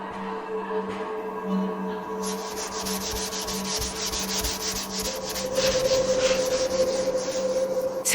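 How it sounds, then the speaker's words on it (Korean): Old, damp, tattered wallpaper is scraped off a moldy basement wall in a continuous close rasping scrape that grows louder toward the end, over a steady low hum. "습기 때문에 너덜너덜해진 기존의 벽지를 전부 제거하기 위해 긁어내는 작업을 하다 보니"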